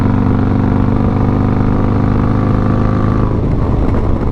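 Harley-Davidson Road Glide motorcycle cruising on a road, a loud steady low engine drone with a shift in tone near the end as it leans into a corner, heard up close with no talking.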